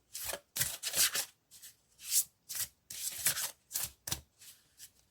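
Tarot cards are shuffled and handled in a series of dry, brushing rubs and riffles, a dozen or so close bursts in an uneven rhythm with brief pauses, without any talking.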